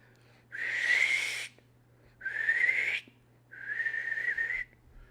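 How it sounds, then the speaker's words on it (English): A whistle is blown in three long, steady blasts, each about a second long and separated by short pauses. The blasts are loud and close, with a faint background hum and no talking. "I am blowing my whistle."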